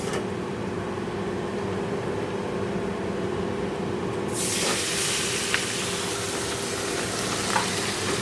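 Vegetables poured into hot oil in a home kitchen set off a sudden loud sizzle about halfway through, and the sizzle keeps up as a dense, steady hiss over a low background hum.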